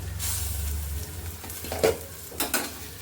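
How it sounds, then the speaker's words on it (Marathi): Bitter gourd vegetable being stirred with a spoon in a pan on a gas stove, giving a few soft scraping strokes and faint sizzling against a low steady hum, with no talking. "मध्ये मध्ये चमचा एकसारखा घालून हळवून पण घ्यायचं आपल्याला"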